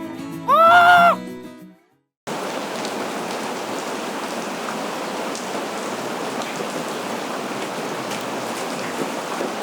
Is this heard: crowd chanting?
no